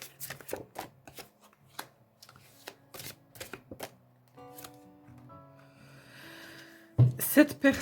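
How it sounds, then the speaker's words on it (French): Tarot cards are handled, shuffled and drawn, five cards in all, with crisp flicks and riffles in quick bursts close by, then a louder rustle of cards at the end; someone speaks softly between the card sounds. "je vais prendre 5 cartes aussi."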